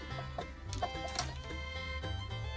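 A Gurk hen clucks softly in short, scattered bursts, fairly close but quiet, with faint rustling in the background.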